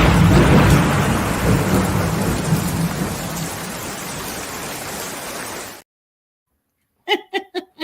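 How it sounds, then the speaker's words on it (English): Heavy rain falls with rolling thunder in a dense, loud downpour that stays steady for about six seconds, then cuts off abruptly into silence before a few short sounds at the end. "The rain is gorgeous."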